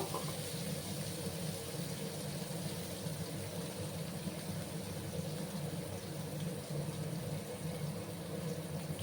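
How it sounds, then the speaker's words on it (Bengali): Water running steadily from a kitchen tap while a mixer jar is rinsed and water poured into a pan of vegetarian dudh potol curry, an even continuous splashing flow lasting throughout. "আর মিক্সির জারটা ধুয়ে আমি সামান্য জল অ্যাড করে দেবো"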